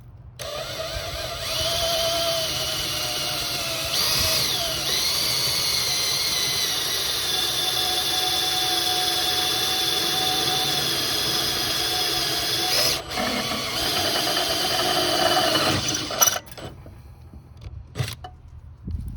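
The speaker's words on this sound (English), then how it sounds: "Start drilling." A power drill runs steadily at its fastest speed while boring a hole, a continuous high whine held for most of the clip before cutting off near the end into a few short bursts and clicks.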